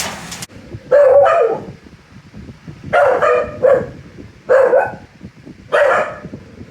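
Dogs bark in bursts, four separate clusters of sharp yips and barks spaced a second or two apart, loud and close.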